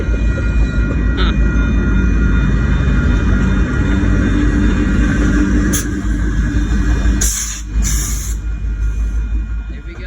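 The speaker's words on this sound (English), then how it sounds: "There's GO train." A GO commuter train, pulled by two locomotives, passes close by with a loud, steady, broadband roar and rumble that stays at full strength throughout, along with a few brief hissing bursts near the end.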